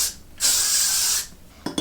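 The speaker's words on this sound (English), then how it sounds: "now I'm just gonna spray this section with my Got To Be Glued hairspray" Got To Be Glued hairspray is sprayed onto a section of hair in one continuous close, loud hiss lasting under a second, preceded and followed by brief quieter spray puffs.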